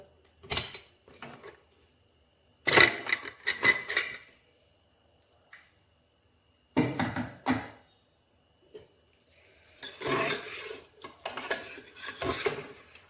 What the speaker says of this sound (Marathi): आपला कुकर थंड झालेला आहे झाकण काढून बघूया